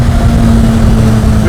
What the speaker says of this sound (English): everyone is wondering, what is that exhaust note? It does not sound like a car